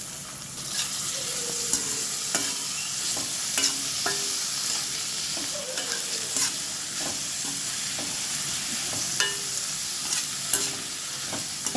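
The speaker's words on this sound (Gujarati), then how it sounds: "હવે હું અહીંયા ફરીથી નાખીશ કાંદા લાંબી સ્લાઇસમાં કાપેલા કોબી ચીમલા મરચાં ટામેટાં" Sliced onion, cabbage, capsicum, chillies and tomatoes stir-fry in a pan, a steady close sizzle broken by scattered scrapes and clicks of a spatula stirring, with no talking.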